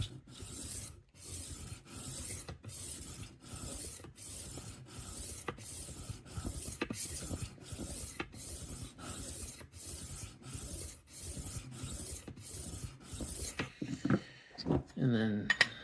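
Henckels 12-inch chef knife drawn across a 2000 grit sharpening stone, a steady run of regular rasping strokes with short gaps between them, close and quiet, a few clattering knocks at the end.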